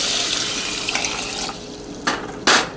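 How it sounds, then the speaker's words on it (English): Water from a tap runs into a pot beside a hot stove burner, a steady splashing stream with a few clanks and bumps of the pot near the end. "To this, I'm going to add 4 cups of water."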